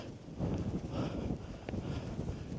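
Strong wind gusting across the exposed summit ridge of Snowdon buffets the microphone in a steady low roar, with brief swells and no talk over it.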